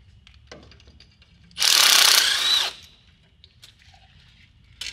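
Impact wrench on exhaust header bolts of a cammed 5.3 Silverado during a long tube header install, one loud burst of hammering whir lasting about a second, close by, with quiet clinks around it.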